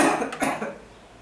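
A single harsh cough bursts out, followed by a shorter second cough, both close and fairly loud, then the sound fades to quiet room tone.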